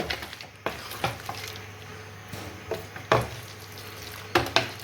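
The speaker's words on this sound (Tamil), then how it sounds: "இந்த ஹீட்லேயே நல்லா கொஞ்சம் கிண்டி விட்டுலாம்" Country chicken fry with pepper powder is stirred in a hot pan, with rhythmic scraping strokes every second or so over a soft, steady sizzle, heard close with no talking.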